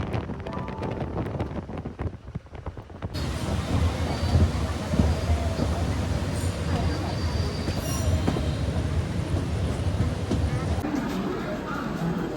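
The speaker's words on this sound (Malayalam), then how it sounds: "ഏകദേശം 8:30 കൂടിയിട്ട് ഞങ്ങളുടെ ട്രെയിൻ ബാംഗ്ലൂർ എത്തിയിരിക്കുകയാണ്" A train rolls on rails arriving at Bangalore, a loud continuous rumble of wheels and carriages with wind buffeting close by and brief squealing, steady throughout after a short quieter stretch at the start.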